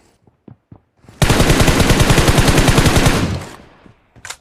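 Rapid automatic gunfire sprays in a battle royale video game, one loud, continuous burst of closely spaced shots lasting about two seconds, preceded by faint ticks and followed by a short tail.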